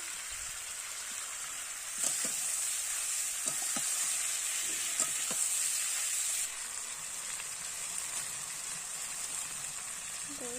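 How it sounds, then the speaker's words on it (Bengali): Vegetables such as pointed gourd, potato and drumstick fry in spiced masala, giving a soft, steady sizzle with several light stirring knocks and scrapes, fairly quiet and close. "সবজিগুলো দিয়ে দিলাম ভালো করে মশলার সাথে কষিয়ে নেবে সবজিগুলোকে"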